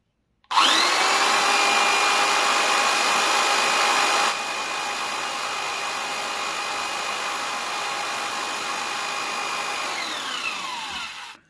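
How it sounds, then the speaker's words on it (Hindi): An 850 watt angle grinder spinning at full speed, powered by a 220V motor-generator, gives a loud, steady high-pitched whine that drops slightly partway through and winds down at the end; no talking. "ये जो जनरेटर है ये एंगल ग्राइंडर को भी घुमा दे रहा है, जो कि 850 वाट का एंगल ग्राइंडर है"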